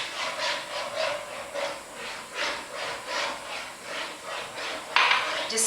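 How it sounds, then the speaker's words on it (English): Whisk beating a sauce with melted butter for four-cheese pancetta penne, a steady rhythmic scraping that repeats about twice a second throughout, fairly close, with a brief brighter clink near the end. "Just keep whisking it"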